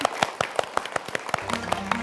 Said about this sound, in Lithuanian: Paplokim vaikai dėdė Motiejau, jam labai patinka, kai plojam garsiai